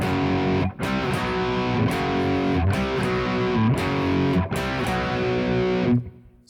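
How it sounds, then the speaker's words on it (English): Distorted electric guitar plays the chorus of a song, loud, dense power chords with a steady rhythm and brief breaks between phrases, alone with no talk. "Now the chorus section of the song sounds like this."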